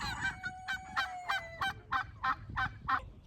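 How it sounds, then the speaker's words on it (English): Geese honk repeatedly at close range on a homestead in warm weather, a rhythmic series of loud nasal calls about two or three per second. "The geese are all loving the warm weather."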